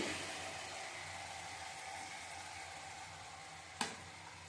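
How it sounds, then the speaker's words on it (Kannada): Ground mint masala frying with tomato in a pan, a soft, even sizzle running throughout with one sharp utensil knock near the end. "ರುಬ್ಕೊಂಡಿದ್ದ ಮಸಾಲೆನ ಈಗ ಹಾಕಿದ್ದೀನಿ ಇದು ಸ್ವಲ್ಪ ತಳ ಬಿಡೋ ತನಕ ಹುರ್ಕೊಳ್ಳೋಣ"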